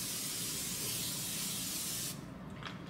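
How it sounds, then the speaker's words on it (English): Cooking spray sprayed into a casserole dish, a loud, steady aerosol hiss lasting about two seconds that cuts off abruptly, followed by faint handling sounds. "we're going to spray so we have easier cleanup"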